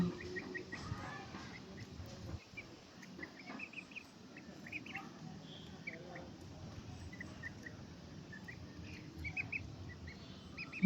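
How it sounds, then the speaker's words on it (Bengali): Young Aseel fighter chicken chicks peck at grass in an open field, giving soft scattered clucks and high chirps against a steady outdoor hiss with faint insect-like buzzing. "দেখেন কি সুন্দর করে ঘাস খাচ্ছে মুরগিতেও ঘাস খায়"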